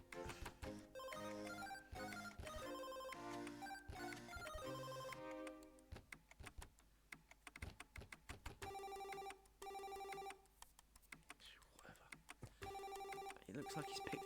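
Phone text-message notification tones chime again and again in quick, repeated bursts, loud and close, with short pauses between groups of ringing beeps and faint clicks underneath.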